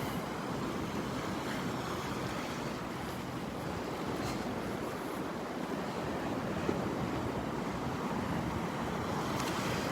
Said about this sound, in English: Boy, did that wind ever pick up.